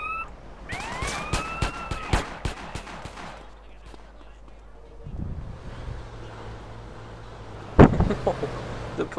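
A police car siren wails and rises and falls in the video game GTA San Andreas, mixed with bursts of gunfire, a vehicle engine and other game noise.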